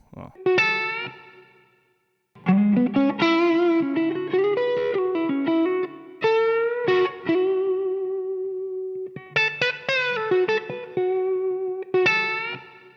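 A distorted electric guitar plays a melodic riff with sustained, gritty notes and short pauses, close and fairly loud.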